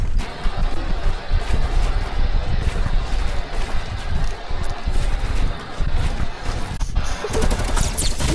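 Dense, continuous automatic gunfire from a shooter video game, rapid bursts packed together at steady loud volume with windy noise underneath, no voices standing out.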